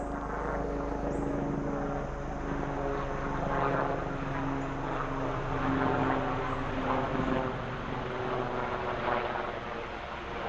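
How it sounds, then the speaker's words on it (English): A helicopter passes overhead in a high-traffic outdoor area, giving a steady broadband rotor and engine rumble at moderate distance that holds fairly constant and swells slightly midway, with no talk heard. "And I apologize for the helicopter flying over right now."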